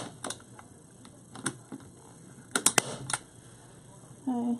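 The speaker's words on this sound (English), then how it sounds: "And I'm just putting two staples in here." Staple gun driving staples into a grapevine wreath, a few sharp close clicks and snaps spread across the clip, with a brief tonal sound at the end.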